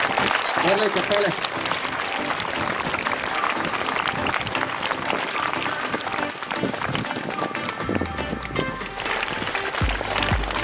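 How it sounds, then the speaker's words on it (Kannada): A crowd claps loudly and continuously for a street bicycle stunt performer, the dense applause filling the whole stretch, with a low rumble joining near the end. "ಬರ್ಲಿ ಚಪ್ಪಾಳೆ"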